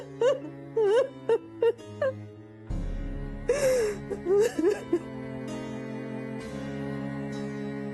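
A woman cries in a Marathi TV serial scene, with several short wailing, gasping sobs in a row, then a longer shaky moan and a quieter stretch under soft background tones.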